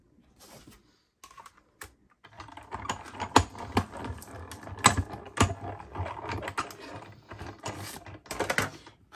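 A die-cutting machine feeds white cardstock through a small stitched label die, giving a run of rapid clicking, rattling mechanical taps that grow denser after a brief start and carry on close and steady to the end.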